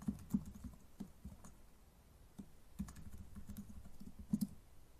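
Light keystrokes on a computer keyboard while HTML form text is entered, soft scattered clicks at low level with brief clustered bursts, no speech.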